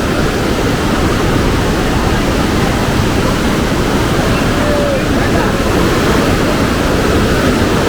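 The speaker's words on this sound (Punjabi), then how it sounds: "ਪਾਣੀ ਤਾਂ ਬੇਹਿਸਾਬੇ ਤੇਜ਼ ਹੈ" A steady, loud roar of a fast-flowing mountain river at Manikaran Sahib fills the whole stretch, broad and unbroken, nearby.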